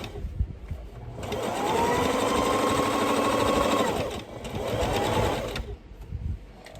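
Sewing machine stitching a fabric face mask, running in two bursts: a long steady whirring run, a pause to pivot at a corner, then a shorter run, close and fairly quiet.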